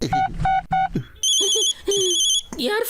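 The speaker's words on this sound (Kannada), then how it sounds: "ಯಾರ್ ಫೋನ್ ಇದು?" A ringing telephone in a Motu Patlu cartoon, sounding as loud, repeated electronic ring bursts that alternate with lively cartoon voices talking close by.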